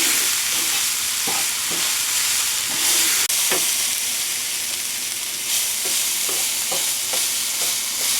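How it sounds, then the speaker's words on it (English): Beef for an Irish stew frying in a pot, a loud, continuous sizzle and hiss with repeated scraping stirs knocking through it, and no voices. "I'm going to give these a little bit stir"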